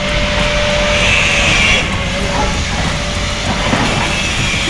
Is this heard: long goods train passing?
yes